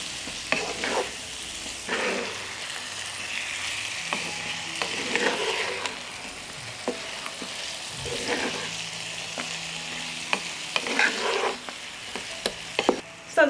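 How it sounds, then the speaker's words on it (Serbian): Spices fry on low heat in a pan while being stirred, with a soft continuous sizzle and scraping of the utensil against the pan in irregular strokes, close and fairly quiet. "nastaviti još par minuta da pržim sve ovo na nižoj temperaturi"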